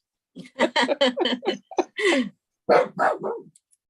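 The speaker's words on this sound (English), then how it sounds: "we're supposed to say that you may hear barking in the background" Several sharp, closely spaced dog barks ring out near the microphone in quick bursts, with a short pause before a final few yaps.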